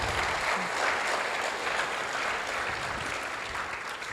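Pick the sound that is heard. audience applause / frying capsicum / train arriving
audience applause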